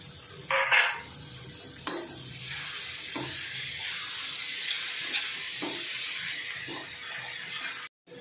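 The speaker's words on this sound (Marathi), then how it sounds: "कारली आता एकजीव करून घेऊया" Bitter gourd pieces stir in a frying pan, a broad hissing sizzle running steadily with a few sharp scrapes and knocks of the spoon, close up, cutting off abruptly near the end.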